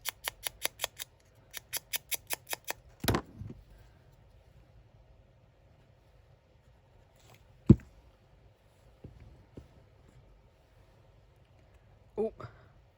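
Scissors cutting out a paper banner shape for Christmas gift wrap crafting, a quick series of crisp close snips followed by scattered handling noises and a few louder clacks, with no talk over them.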